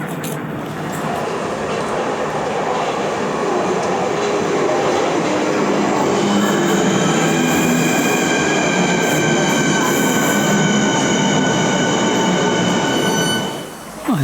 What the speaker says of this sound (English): To catch the train back up towards Sevenoaks.